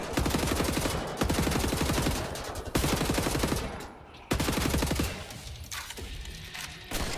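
Sustained automatic gunfire in the shooter game Wolfenstein: The New Order, dense rapid bursts running nearly the whole time and broken by a few short gaps, loud and close.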